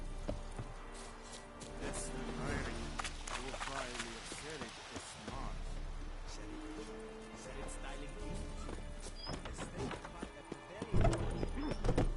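Horse hooves clip-clopping at a run in The Witcher 3: Wild Hunt, with whinnies and game sounds over a steady background, while a voice talks now and then throughout.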